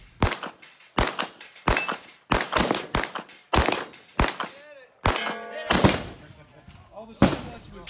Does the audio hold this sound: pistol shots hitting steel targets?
yes